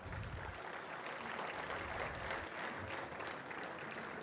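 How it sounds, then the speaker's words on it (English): A conference hall audience at an annual centennial event applauds the arriving chief guest, a steady, full wash of clapping sustained throughout at moderate distance. "welcome him with a huge round of applause."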